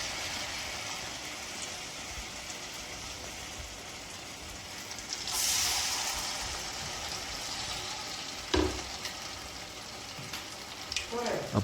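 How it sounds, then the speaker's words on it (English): Banana slices deep-frying in hot oil for Kerala Pazham Pori, a steady, fairly quiet bubbling sizzle with a brief louder hissing surge midway and a few clinks near the end. "Repeat the same process until all the banana slices are fried"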